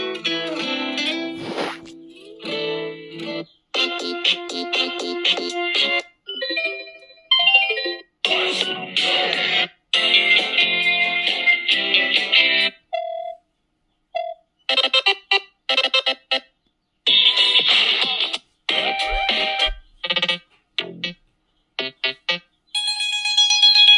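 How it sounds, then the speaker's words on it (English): A DOOGEE Blade GT rugged 5G phone plays a string of its built-in standard ringtones, loud and close, each a short melodic or chiming pattern of tones separated by brief gaps, switching from one tune to the next. "I'm going to go ahead and play some of these ringtones"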